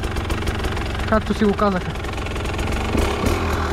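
A Husqvarna TE 300 2025 Heritage two-stroke motorcycle engine runs steadily at low to mid revs, a continuous close rumble with slight throttle swells, while someone talks over it.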